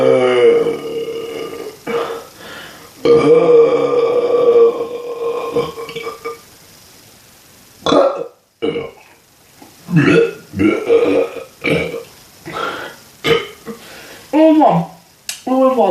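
Loud human burps, a series of long and short belches one after another at close range, some drawn out and some clipped, separated by brief quiet gaps.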